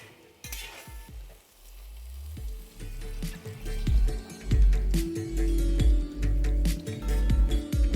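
Fried potatoes and water being stirred into a Katla fish curry in a pan make repeated scraping and clanking spoon strokes over a bubbling sizzle, the stirring growing louder and busier toward the end.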